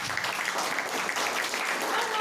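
Congregation clapping in a church, a continuous full round of applause sustained evenly across the whole stretch, with some voices faintly underneath.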